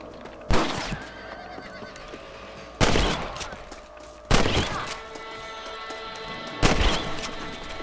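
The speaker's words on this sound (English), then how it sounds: "You're better at shooting rabbits than outlaws, I think." Gunshots from shooting rabbits in the Western game Red Dead Redemption: four sharp, loud cracks spaced a couple of seconds apart, each with a short decaying tail, over quiet game ambience.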